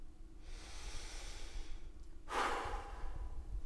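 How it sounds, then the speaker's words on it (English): A long, soft exhale followed by a deeper, rougher breath through the mouth during a respiratory exam, close and quiet, with no talking. "can you take some deep breaths in and out through your mouth"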